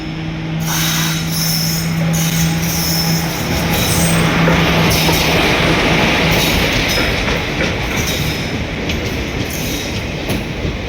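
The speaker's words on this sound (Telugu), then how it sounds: "ఇక్కడ మీరు వెనకాల గమనిస్తే ట్రైన్ అనేది వస్తుంది" A train rolls into a railway station, loud and close, with a steady rumble of wagons and rattling wheels. A faint squeal or hum fades out early, and the clattering continues throughout without any speech.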